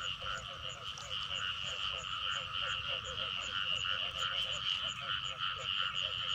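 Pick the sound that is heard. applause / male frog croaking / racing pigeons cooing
male frog croaking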